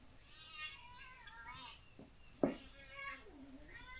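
A baby kitten indoors gives several thin, high meows spread over a few seconds, with one sharper, louder cry in the middle.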